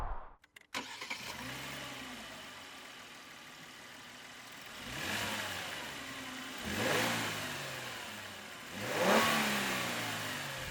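A Genesis G90 sedan with a twin-turbocharged V6, driven in sport mode, gives a brief start-up clatter and then pulls through three rising acceleration surges, each swelling and easing off, heard muffled and fairly faint from inside the cabin.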